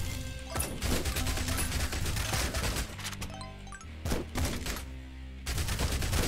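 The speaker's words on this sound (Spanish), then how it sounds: "escopeta doble barril" A double-barrel shotgun firing repeatedly in Yet Another Zombie Survivors, with dense loud blasts and crunching impacts in rapid succession, and short lulls as the barrage continues.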